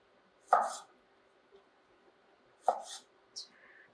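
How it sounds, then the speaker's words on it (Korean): A knife chops through a fish fillet on a cutting board, cutting it into eight pieces. Two sharp, distinct cuts about two seconds apart are followed by a lighter tap, each close and crisp against a quiet kitchen. "오늘은 조금 큰 게 나왔으니까 8등분을 하겠습니다"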